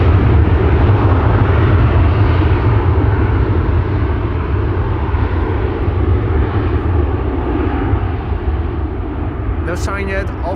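A KLM Boeing 737-800 jet departs Schiphol airport with a loud, continuous, low jet roar that holds throughout and eases slightly near the end.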